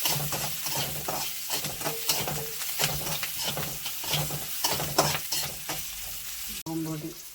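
An egg and drumstick-leaf thoran stir-fries in a pan, with a close, rhythmic scrape and toss of stirring over a continuous sizzle.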